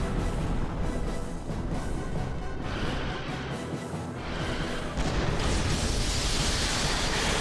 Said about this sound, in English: Shoot your giant cannonballs faster,